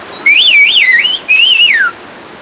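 Turkish whistled language, known as bird language, sounds as two loud, clear whistled phrases with swooping, warbling pitch glides, separated by a short pause.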